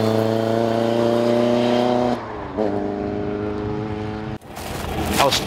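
A Shelby Mustang engine hums with a loud, steady, tonal drone that shifts pitch twice as the revs change, then breaks into rougher, louder noise near the end.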